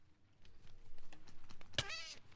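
A cat meows in a horror video game, one short, sharp cry near the end that rises over faint background sounds.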